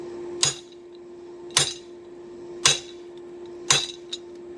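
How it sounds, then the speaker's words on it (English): Four sharp, ringing hammer blows strike a railroad spike held in a guillotine tool fitted with fullering dies, evenly spaced about a second apart, close and clear over a steady background hum, with no talking. "we'll just fuller that down until it's about 1/4 inch or thick or so"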